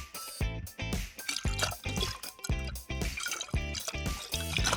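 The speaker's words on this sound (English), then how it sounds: "then we take the vinegar and pour it onto the egg" Vinegar poured into a glass over an egg, a steady gurgling, splashing stream with dripping and trickling as the glass fills, close and moderately loud, with no talking.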